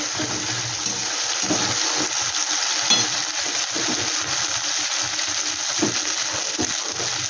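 Ginger frying in oil in a pan: a continuous bright hiss of sizzling with soft irregular stirring scrapes and bubbling underneath, close and steady throughout, no talk.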